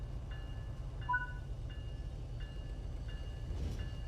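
An MBTA commuter rail train on the Providence/Stoughton line rumbles steadily from inside the cab, a low continuous drone with faint repeating tonal beeps over it.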